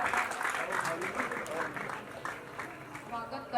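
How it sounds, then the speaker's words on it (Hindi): Audience applause at a school retirement programme as guests take the stage, steady clapping across the clip with overlapping speech and crowd noise, moderately loud. "इन सभी का जोरदार तालियों के साथ स्वागत"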